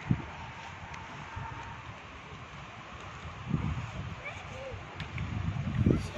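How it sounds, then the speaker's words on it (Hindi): Strong wind blows outdoors in the aftermath of a hurricane in Florida, a steady broadband rush with louder gusts rising near the middle and end of the clip. "अभी भी बहुत तेज हवा।"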